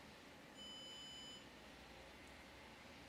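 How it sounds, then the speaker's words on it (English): An LED photofacial treatment device gives a single faint, steady electronic beep lasting under a second to signal the end of a session, over a quiet background hiss. "you'll see a very low but audible beep that will allow us to know the treatment is"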